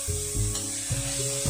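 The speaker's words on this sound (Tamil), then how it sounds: "கொஞ்சம் குடமிளகாய், கொஞ்சம் வெங்காயத்தாள் போட்டிருக்கேன். இது கொஞ்ச நேரம் வதங்கட்டும்." Capsicum, spring onion and beans sauté in a hot pan for chicken fried rice, giving a loud steady sizzle broken by a few quick stirring scrapes, close and alone.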